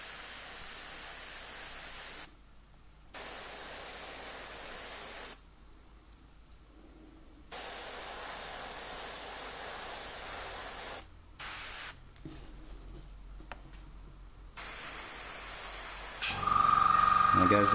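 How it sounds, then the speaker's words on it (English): Air hisses in long on-off bursts from a Neo for Iwata double-action airbrush, then its compressor kicks in near the end with a steady humming drone and a rising low rumble. "There goes the compressor."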